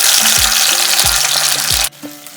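Ginger paste and fennel paste fry in hot oil over spices with cloves, a loud close sizzle punctuated by a few stirring taps before it drops off sharply near the end.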